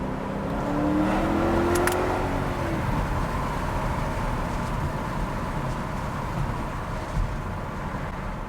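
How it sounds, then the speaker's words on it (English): A 2009 Mercedes-Benz CLK550 V8 in sport mode revs steadily and loudly. A rising engine note early on settles into a continuous, full exhaust drone. "So when you wake up that V8, it definitely sounds a lot better than when you're keeping it quiet."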